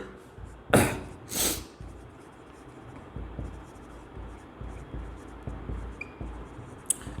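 Marker or chalk writing on a board during an accounting lesson: two louder, brisk strokes near the start, then faint, sparse scratches over a quiet room.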